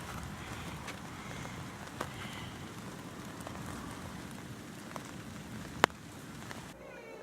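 Steady rain falls outdoors, a dense soft patter on surfaces with a few sharper drips and one loud knock near the end.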